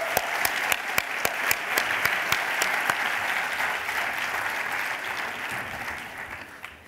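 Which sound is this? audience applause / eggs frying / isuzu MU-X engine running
audience applause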